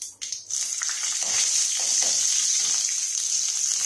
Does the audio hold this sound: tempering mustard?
yes